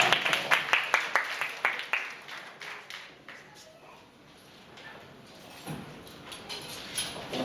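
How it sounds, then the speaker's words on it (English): Applause from an audience at an evening gathering, with a burst of clapping at the start that fades and thins out, followed by scattered claps and some voices. "Please give him another round of applause"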